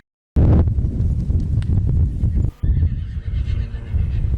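Horses near a California wildfire neigh loudly and close, with hooves clopping and wind buffeting the microphone; a whinny rings out over steady rumbling movement, briefly dipping before resuming.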